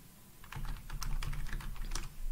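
Quick, irregular keystrokes rattle on a nearby computer keyboard, a cluster of crisp taps building after a brief quiet start, with a faint hum beneath.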